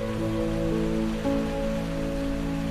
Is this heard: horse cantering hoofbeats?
no